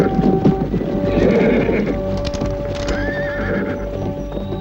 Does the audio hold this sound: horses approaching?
yes